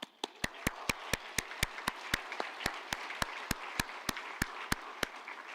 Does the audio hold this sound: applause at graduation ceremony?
yes